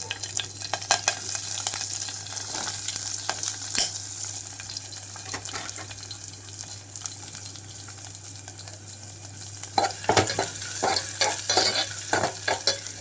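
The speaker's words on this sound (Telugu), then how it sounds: "ఇక్కడైతే తాలింపు గింజలు మొత్తం వేగిన తర్వాత ఇందులోకి కట్ చేసి పెట్టుకున్న ఉల్లిపాయలు పచ్చిమిరపకాయలు వేసేస్తున్నాను" Chopped onions and green chillies hit hot oil after the tempering seeds, sizzling and crackling steadily with stirring clinks throughout, a busier burst of scraping near the end.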